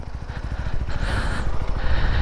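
A new SR250 motorcycle's single-cylinder engine chugs at low revs with a rapid, steady pulse as the clutch is let out and the bike pulls away, the engine note rising slightly, close and loud.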